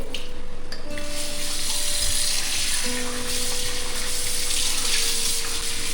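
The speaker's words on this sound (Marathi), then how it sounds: "आता स्वच्छ धुवून घेते" Running water pours steadily from a tap as cut prawn pieces are washed under it. The loud, constant splashing rush has faint clinks and rubbing in it, and no talk.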